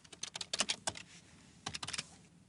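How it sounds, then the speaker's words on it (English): Quiet clacking of keys on a computer keyboard comes in two quick bursts of typing separated by a brief pause, close and clear. "I can start typing and then just hit Tab to go to the next cell"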